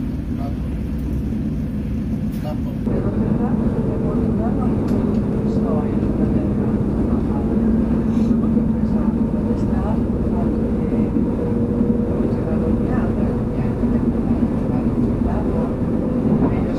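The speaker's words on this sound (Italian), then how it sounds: "Ecco qua il secondo treno regionale ETR 350 che prenderò per arrivare su a Porretta." An ETR 350 regional train runs steadily on the line toward Porretta, a continuous loud rumble and drone of motors and wheels that carries on throughout with no pause.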